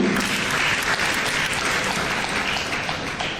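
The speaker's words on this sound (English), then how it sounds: "One more time, a round of applause for Damango Senior High School." Audience applause for a Senior High School team at a renewable energy school competition, steady, dense clapping sustained throughout at close range with no talking.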